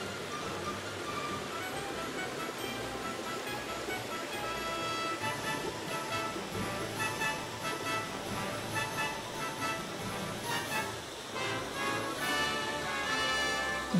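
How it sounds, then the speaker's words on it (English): A small waterfall and a mountain stream flow steadily on a Chiaksan trail near Guryongsa Temple, their broad, continuous rushing wash filling the scene at a moderate, even level with no voices over it. "waterfall is not so big or tall or high. Looks small and not big, but very beautiful and cute."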